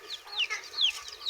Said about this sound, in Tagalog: So tingnan niyo mga kabrad yung ating mga manok.